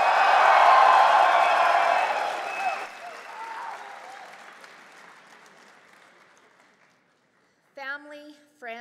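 Graduates at a SAIT spring convocation ceremony cheer and applaud loudly as a dense crowd, the roar fading gradually over several seconds before a voice starts talking near the end.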